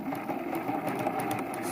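A sewing machine runs steadily while stitching a quilted throw pillow with a zipper closure, working back stitches into a corner. The motor hums and the needle chatters evenly, close and continuous, with no talking.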